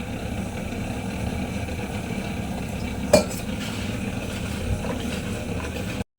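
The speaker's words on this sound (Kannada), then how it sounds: "ಅಕ್ವಾಗಾರ್ಡ್ ಆನ್ ಮಾಡಿದ್ನಲ್ವ ಸೊ ಕೆಳಗಡೆ ಪಾತ್ರೆ ತೊಳೆದು ಬೇರೆ ಇತ್ತಲ್ವ ಸೊ ಅದಕ್ಕೆ ಬಿದ್ದುಬಿಟ್ಟು ಸೌಂಡ್ ಬರ್ತಾ ಇತ್ತು" Water from an Aquaguard purifier falls onto freshly washed dishes below, a steady splashing hiss with one sharp metallic clatter midway and a fainter clink near the end.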